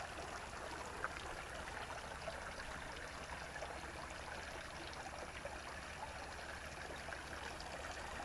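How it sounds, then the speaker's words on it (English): A small brook flows through woods on a nature hike at the Maxwell Game Preserve, giving a steady, close rush and trickle of water that continues evenly throughout, with no talking. "A little brook going through here."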